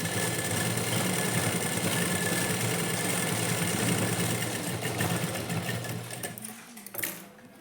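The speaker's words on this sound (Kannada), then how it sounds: "ಇವಾಗ ಇದ್ರ ಮೇಲ್ಗಡೆ ಈ ರೀತಿ ಫೋಲ್ಡ್ ಮಾಡಿ ಲೈನಿಂಗ್ ಮೇಲ್ಗಡೆ ಒಂದು ಸ್ಟಿಚ್ ಹಾಕೋಬೇಕು" A sewing machine runs steadily, stitching a folded edge onto the lining of a blouse, its close, continuous motor whir holding for several seconds before slowing and stopping near the end.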